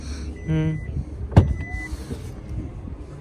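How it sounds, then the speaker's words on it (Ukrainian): Electric power tailgate motor on a 2023 Kia EV6 gives a brief whirring hum. A sharp thump follows, probably the liftgate latching. Faint talk and background noise sit underneath. "сервопривід багажного відділення в автомобілі"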